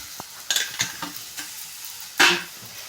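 Chopped okra fries in oil in a pan, with a soft sizzle under a few close scraping stirs and one louder spatula scrape near the end.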